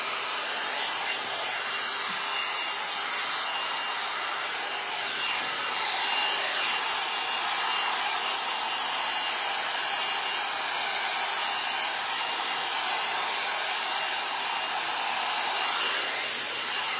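A hair dryer blows steadily for the whole stretch, a loud, close, continuous airy whoosh with slight shifts in tone as it moves around the hair.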